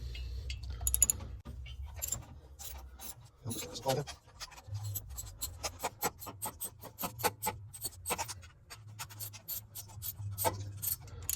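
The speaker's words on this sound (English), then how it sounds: "So let me, there we go, starts falling over. All right, so let me just tighten this up here." Tightening a U-bolt on an alternator bracket of a 1957 Lincoln-Mercury Turnpike 368 Y-block engine, with a series of close metallic clicks, rasps and scrapes in an uneven rhythm, fairly faint.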